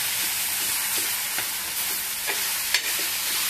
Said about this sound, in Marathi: आणि मस्त हे जे आहे भरीत आपलं छान असं परतून घेऊ